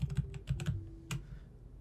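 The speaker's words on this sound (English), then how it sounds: "now if I start typing" Typing on a computer keyboard in the FL Studio 20 music software: a quick, irregular run of close key clicks over about two seconds, with no talking.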